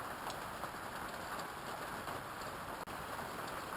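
Rain falling on a vegetable garden during the first rain of the fall season, a steady dense hiss of drops that stays constant and fairly faint, with no voices.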